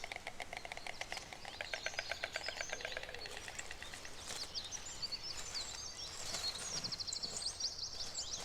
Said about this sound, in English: The bird's distinctive clattering is both a greeting and serves to strengthen the bond between partners.